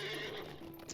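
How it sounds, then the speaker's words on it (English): Horse neighing in Lord of the Rings Online, a single short close whinny with a faint hoof clop underneath, alone without talk. "Right, back on the horse."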